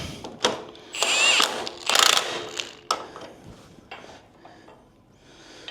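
Ratchet snugging up bolts on the front end of a 1968 Chevrolet C10 during a QA1 and Wilwood install, heard as several close, short bursts of rapid clicking with brief pauses between pulls.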